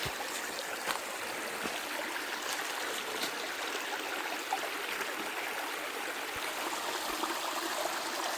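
A mountain stream on an autumn hiking trail flows steadily, its broad, even rush of water holding at a constant close level throughout with no voices.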